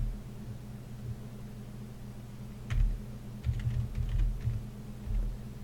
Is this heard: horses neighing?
no